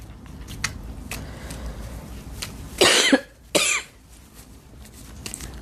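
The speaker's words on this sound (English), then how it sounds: "I'm not able to stop coughing" Two loud, harsh coughs in quick succession from a nearby person, standing out over a quiet background hiss.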